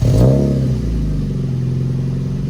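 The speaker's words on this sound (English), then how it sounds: "let's go ahead and take a listen to how this car sounds" A Mazda Miata sports car engine on a cold start: a sharp loud catch and rev at the start, then a steady, slightly lumpy idle close by.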